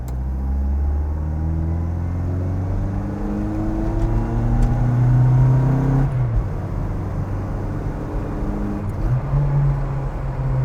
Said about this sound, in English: there's a heck of a lot of induction noise. So from those twin carburetors,